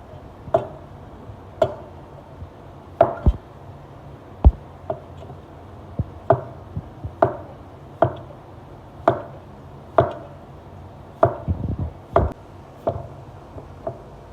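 A very sharp cleaver slowly chops potatoes on a board, sounding as about a dozen crisp, evenly spaced knocks, each with a short ring, fairly close.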